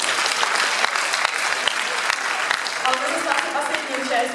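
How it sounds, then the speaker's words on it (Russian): Loud, sustained audience applause at a student improv contest, a thick crowd of clapping hands with individual sharp claps standing out and some voices mixed in. "аплодисменты ему."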